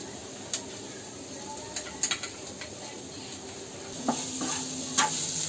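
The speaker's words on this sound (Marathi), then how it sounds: "आता काय आता ढवळून घेते" Turmeric and salt are stirred into oats poha in a pan: a soft sizzle runs underneath while scattered light scrapes and taps of the spoon sound at irregular moments, with no speech.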